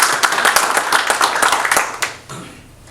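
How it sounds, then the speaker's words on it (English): A short round of applause from an audience at an IMA Houston appreciation event, with sharp individual claps in the first two seconds before it thins out and fades. "Let's give them a short round of applause if we can"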